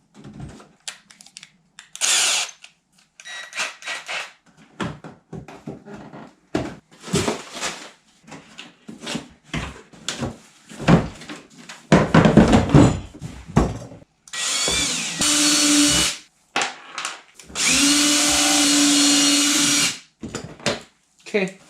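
Power drill boring holes through a kayak hull, several short whirring bursts separated by pauses, with longer sustained drilling runs near the end, close and loud, with clatter of handling between.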